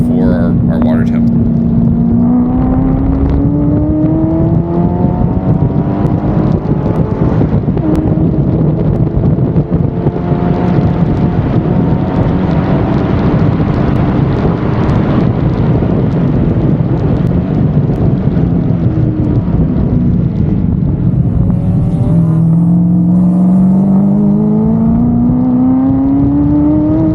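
LS-engined car driving laps on a race track while passing other cars, heard from inside with a loud, continuous engine drone that rises and falls in pitch as it shifts and revs. Wind noise runs underneath.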